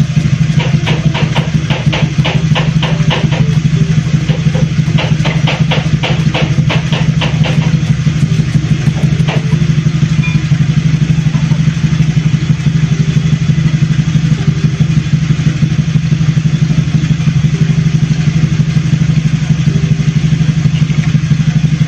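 A motorcycle engine fitted with a double battery setup idles steadily and close by, a constant low hum with rapid clattering ticks early on that fade into an even drone.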